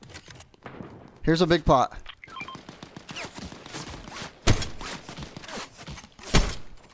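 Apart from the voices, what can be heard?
sniper gunfire in Fortnite video game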